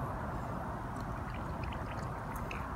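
Water poured from a glass into borax while making slime, a continuous close rushing pour with small splashy bubbling bits, steady throughout and heard alone.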